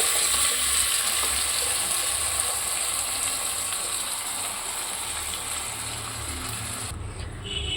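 Curry leaves and ground paste fry in a pan for Kerala-style anchovy peera, a dense, steady close sizzle and crackle that keeps going throughout and eases off slightly near the end.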